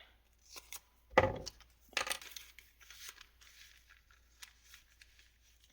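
Scissors snip through layered paper bags at a crafting table, a few short quiet crisp cuts spaced apart, with light rustling and handling between them.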